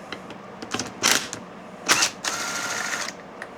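A ratchet with a 27 mm socket loosening the lead frame bolts on a Ford F150's 6R80 transmission: quick clicking ratchet strokes in short bursts, close and fairly quiet.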